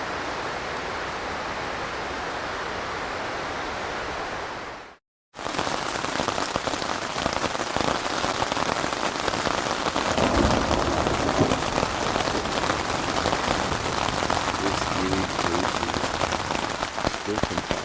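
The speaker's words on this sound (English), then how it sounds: "It's raining really hard" Heavy rain drums on backpacking tents in the Great Smoky Mountains in Tennessee. A dense, steady hiss and patter cuts out briefly near the start, then resumes just as loud for the rest, with no talking.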